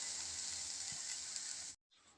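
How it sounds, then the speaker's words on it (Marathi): Green moong and chickpeas roasting in a pan: a soft, steady sizzle and crackle, heard close but faint, that stops abruptly near the end and then resumes quietly. "तुम्ही बघू शकता आपला हरभरा आणि मूग याला चांगलं भाजलेलं आहे"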